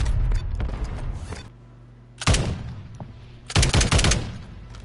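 A light machine gun fires in Warzone in loud, dense bursts, one long burst, a short pause, then two more heavy bursts of rapid shots, close and booming.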